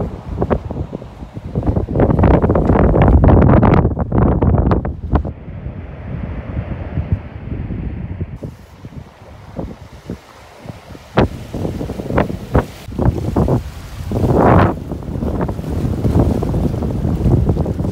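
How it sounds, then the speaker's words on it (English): Strong gusting wind buffets the microphone on a fishing jetty at Murrells Inlet, loud broadband rumble surging and easing in waves across the whole stretch, with brief quieter lulls between heavy blasts and no voices. "Sorry about all the wind."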